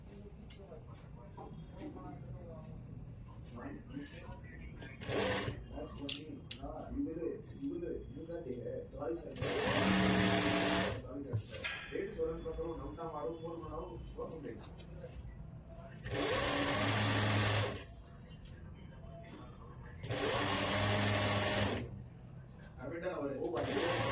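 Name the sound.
sewing machine stitching kurti hem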